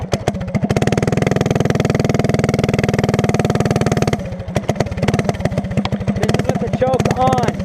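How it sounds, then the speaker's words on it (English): A revived race kart engine runs close by with a rapid, loud, rhythmic putter that holds steady, briefly drops to choppier, uneven firing, then picks back up, with a voice speaking faintly underneath. "the engine runs. It is incredible."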